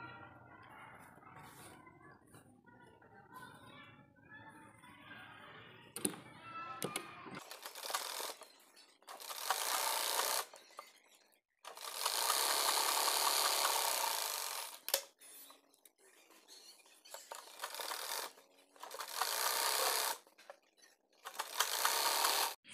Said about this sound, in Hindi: अब हम फिटिंग की सिलाई करते हैं।